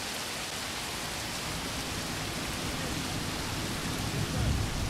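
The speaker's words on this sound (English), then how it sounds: "Yeah, so it's raining and" Heavy rain in the World War II strategy game Combat Mission: Beyond Overlord, a dense, constant downpour hiss that fills everything, with a low rumble swelling near the end.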